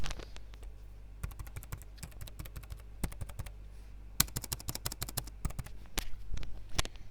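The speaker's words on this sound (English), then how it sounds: "that is the sound of the scissor switches" Fingers type on a Keychron B1 Pro wireless keyboard with scissor switches and plastic keys, making close, crisp clicks in rapid bursts with short pauses between them.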